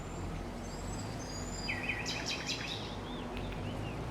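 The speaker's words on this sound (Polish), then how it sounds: "Uwielbiam takie ambientowe dźwięki z ptaszkami." Ambient birdsong from the Farming Simulator 25 countryside: light chirps and short whistled phrases sit faintly above a steady low hum and wash of background noise.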